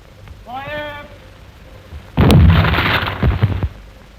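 An explosive charge set off with an exploder on a rock face blasts out in one loud, broad detonation with a rumbling tail and a second burst, preceded by a faint whistle or shouted call.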